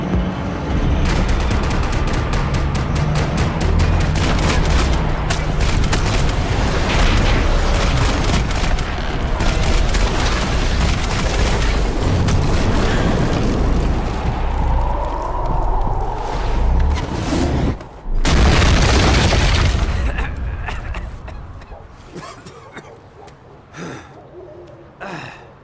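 Loud, dense gunfire and blasts from the shooter game Max Payne 3, sustained chaotic bursts and booms filling most of the clip before tapering into quieter scattered shots near the end.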